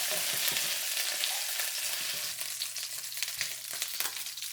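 Shrimp fry in oil in a pan for a Chinese shrimp, tomato and egg dish, a dense steady crackling sizzle with occasional scrapes and stirring knocks, close and continuous without talk.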